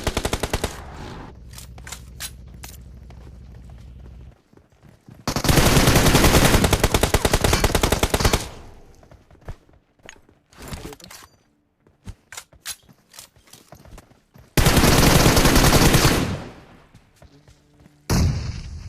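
Bursts of rapid SKS and AMR rifle gunfire in PUBG Mobile, several loud dense volleys separated by quieter stretches of scattered single shots and game noise.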